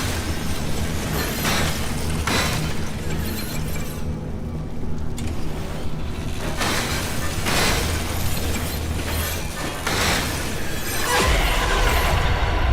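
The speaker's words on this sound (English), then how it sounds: "Yeah, that's the sound of a maw." A maw creature spawning in the video game Pacific Drive, a loud, sustained rumbling roar with bursts and booms that swells and surges for several seconds, ending in a deep low swell.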